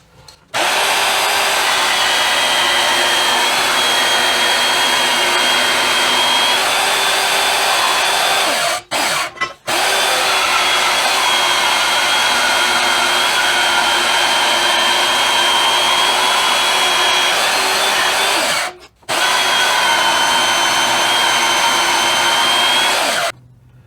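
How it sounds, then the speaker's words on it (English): A grinder shapes a metal frame piece to fit during an axle swap on a Sonoma pickup. The grinding is loud, steady and close, running almost nonstop for the whole stretch, with two brief pauses. "you grind it until it fits in there nicely"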